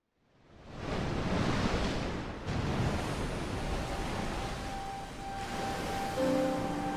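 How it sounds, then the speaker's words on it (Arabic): Sea waves surge and wash in a steady, full roar of surf that swells, dips briefly and rises again, with no voices over it. "كان لجج البحر تعلو وتهبط بالمركب الذي يحمل والدي"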